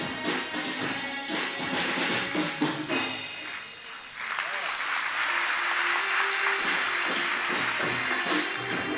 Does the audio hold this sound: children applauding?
yes